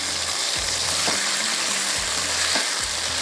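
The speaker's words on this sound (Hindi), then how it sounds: "इसको इस तरह से आपने फ्राई करना है" Fish frying in a pan with masala coating, a steady, loud sizzle running throughout with a few soft stirring scrapes, no talking.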